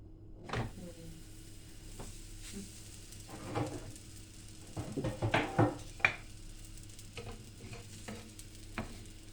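Katmer pastry cooks in a small dry pan, its soft sizzle faint and low under scattered handling knocks and scraping of the pan.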